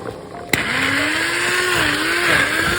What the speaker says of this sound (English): So we are going to take the immersion blender.